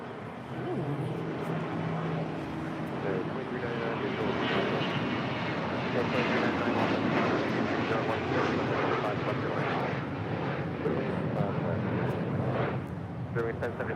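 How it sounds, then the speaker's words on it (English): Bombardier Global Express business jet taking off from an airport runway, a broad, steady engine roar held at a distance for the whole stretch, with talk over it. "clear for takeoff. It's a Global Express."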